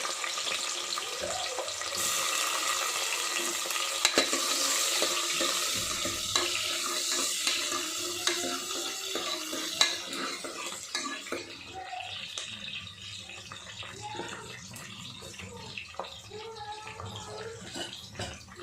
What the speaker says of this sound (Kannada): ಸೊ ಇವಾಗ ಎಣ್ಣೆ ಕಾದಿದೆ ಸೊ ಇದಕ್ಕೆ ನಾವೇನು ಹಾಕೋಣ ಫಸ್ಟ್ ಈರುಳ್ಳಿ